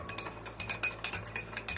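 A spoon stirs instant yeast and sugar in water in a container, scraping and clinking lightly in quick, regular strokes, close by.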